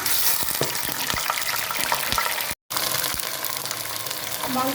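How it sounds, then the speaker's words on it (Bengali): Chicken pieces fry in hot soybean oil for a spicy dish, a steady close sizzle broken by a few sharp scrapes and taps, with one brief cutoff midway. "এখন আমি এখানে মুরগির মাংস দিয়ে দিচ্ছি।"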